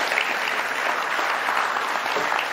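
An audience at a live stage discussion keeps up steady, full applause throughout, a dense even wash of clapping with no voices over it.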